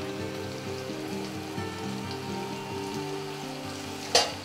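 Lentil balls for urundai kulambu, the second batch, sizzling and crackling steadily in hot oil in a home kitchen, with a sharp splash near the end, no talking.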